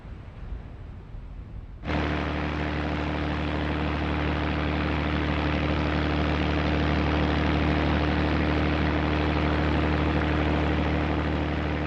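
North American P-51 Mustang fighter fitted with a Rolls-Royce Merlin engine, its steady loud drone kicking in after a brief quieter start and holding a constant, powerful roar with deep low hum throughout.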